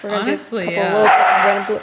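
Dogs yip and bark indoors in a home kitchen during a baking session, short excited calls mixed in with several people talking over them.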